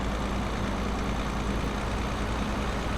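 A heavy truck engine in the Euro Truck Simulator 2 driving game gives a steady, loud low-pitched rumble and drone throughout, with no voices.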